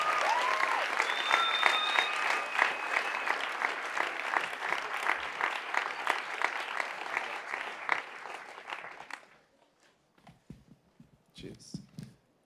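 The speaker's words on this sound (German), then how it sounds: "Ein herzlicher Applaus für Dennis und Dan" Audience applause for a beatbox and rap duo at an evening stage show, dense clapping loud and sustained for about nine seconds, then dropping to a few scattered claps and faint noises.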